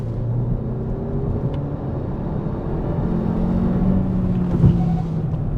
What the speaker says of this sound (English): let's see how well this accelerates